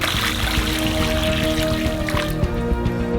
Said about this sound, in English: Pour 4 liters of water on top